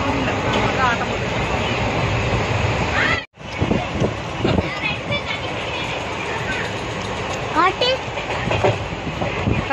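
A passenger train travelling from Coimbatore to Pudukkottai, heard from inside a carriage: continuous rumbling wheel noise with rhythmic clickety-clack over rail joints, a brief dropout partway through, and some voices in the background.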